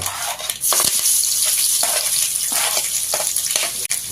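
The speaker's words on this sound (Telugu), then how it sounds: "నూనె వేసుకుంటున్నాను ఆవాలు జీలకర్ర వెల్లుల్లిపాయ" Mustard seeds, cumin and garlic frying in about three spoons of hot oil, a loud continuous sizzle and crackle close up, with repeated stirring strokes scraping through it at a steady rhythm.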